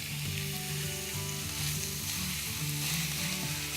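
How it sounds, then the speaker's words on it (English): A big hunk of cold beef hits a hot pan and sizzles, a steady close-up frying hiss that runs for a few seconds with no talking. "I'm gonna get our beef in."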